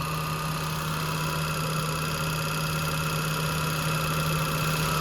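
A 3.3 liter engine in a 2002 Nissan Quest GLE idles steadily at auction, producing a constant, even drone with a low hum and no change in pitch or speech over it.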